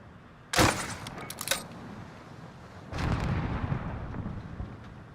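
A spawn tube fired in the Modern Warfare video game on the Petrov Oil Rig or Suldal Harbor map gives a sharp, loud launch burst, a brief rattling tail, then a second rumbling blast that fades slowly, with no talking.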